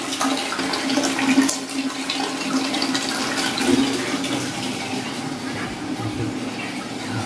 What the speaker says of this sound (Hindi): यहाँ पे पानी भरा जा रहा है